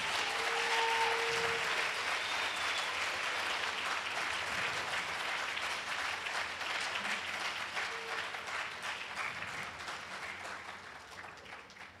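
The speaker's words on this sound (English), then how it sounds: "let's give them all a big round of applause." Applause from the audience at a neighborhood poster contest award ceremony for the finalists, a long stretch of steady, moderately distant clapping that slowly fades, with a faint voice or two in the crowd.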